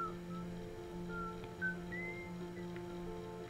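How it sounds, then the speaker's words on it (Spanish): Whistled melody from a character in the video game Mika and the Witch's Mountain, a few short rising and gliding notes over steady game music with no talking. "¿somos nosotros los que silbamos?"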